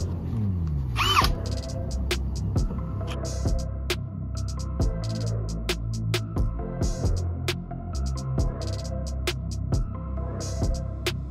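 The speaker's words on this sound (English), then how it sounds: "Time to drill the holes." Power drill boring holes while fitting an outdoor camping shower with PEX plumbing in a skoolie tiny home under construction; the motor whirs in repeated bursts with short pauses and clicks, close and fairly loud, without talk.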